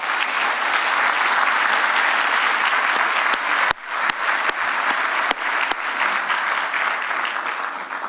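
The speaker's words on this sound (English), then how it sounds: "please join me in giving them a warm round of applause" Loud, steady applause from a large audience at an academy induction ceremony thanking sponsors, continuous dense clapping with a few sharp louder claps near the middle and a slight fade toward the end.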